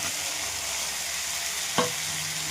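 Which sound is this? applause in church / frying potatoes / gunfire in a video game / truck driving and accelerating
frying potatoes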